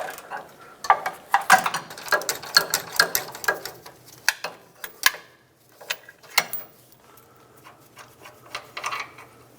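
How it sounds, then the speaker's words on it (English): A hand ratchet fitted with a 19mm socket clicks while loosening a front lower control arm bolt on a 1996-2002 Toyota 4Runner, giving bursts of quick metallic clicks in uneven runs with short pauses and occasional clanks. "Try to sneak a ratchet with a socket in there."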